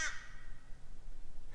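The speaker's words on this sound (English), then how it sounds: "The old crow's got his opinion." A crow gives a single harsh caw close by outdoors at a metal-detecting site, sharp at the start and fading into quiet wind-like background.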